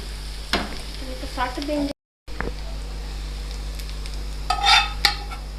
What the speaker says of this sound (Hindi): अब हम फ्लेम ऑफ करेंगे और इसको हम चटनी पे डाल देंगे।